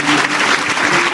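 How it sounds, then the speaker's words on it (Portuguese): Steady, dense applause from a church congregation clapping hands, loud and continuous throughout with no pauses. "Pode louvar a Deus com as palmas."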